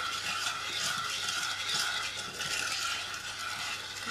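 A spoon scrapes and swirls through a sugary syrup mixture in a pot for a Middle Eastern dessert, a steady close rhythmic stirring with faint sizzling and no talking.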